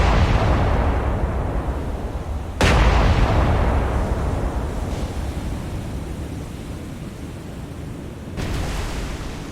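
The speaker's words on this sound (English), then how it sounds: "Go ahead and fire our secondaries at them as well." Heavy naval guns firing from a warship in the War on the Sea game, booming blasts at about 2.5 and 8.5 seconds, each fading into a long rumbling roll over constant sea noise.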